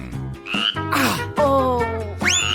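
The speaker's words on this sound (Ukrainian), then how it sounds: "Твоя жаба знову поскакала" A frog croaks in a video setting, several loud gurgling and rising croaks in quick succession, close and alone with no talk.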